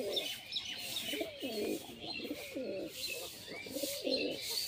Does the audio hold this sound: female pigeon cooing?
yes